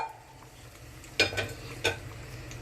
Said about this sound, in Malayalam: അപ്പോൾ ഞാനൊരു ഇച്ചിരിയും കൂടെ വെള്ളം ഒഴിക്കുകയാണേ.